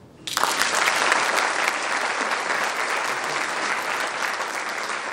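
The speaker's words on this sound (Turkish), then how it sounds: "Alkış." A university lecture audience bursts into dense, sustained applause that starts abruptly and holds loud and even for several seconds, with no talking over it.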